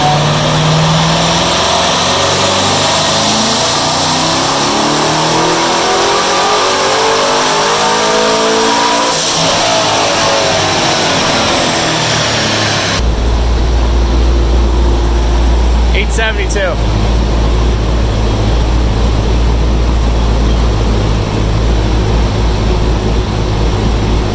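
A Corvette engine runs loud and close, its revs sweeping up and down over many seconds before settling into a heavy, rumbling idle-like drone with a brief mechanical whine.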